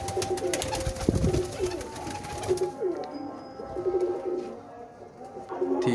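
Pigeons coo softly in a loft, repeated throaty calls with some birds nearby and others fainter, over a steady background hum and a few brief rustles.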